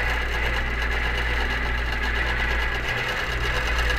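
A QBOT quilting machine stitches a quilt with a steady, continuous motor hum and rapid needle whir, close and even throughout, with no talking.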